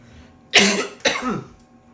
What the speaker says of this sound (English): My cough is bad today.